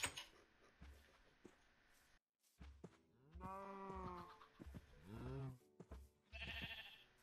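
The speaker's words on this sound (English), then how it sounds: "I'm trying to lead this fucking cow in here." Several cows moo in Minecraft, a series of drawn-out, nasal game-animal calls, some overlapping, mixed with brief blocky game sounds and a short silent gap.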